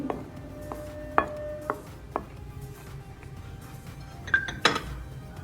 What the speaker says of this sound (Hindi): इन चीज़ों को हम मिक्स कर लेंगे।